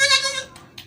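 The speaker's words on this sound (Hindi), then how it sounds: "ये मेरे पास एक बकरी है" A milk goat bleats up close in a single loud, wavering cry at a livestock market, followed by two short fainter bleats.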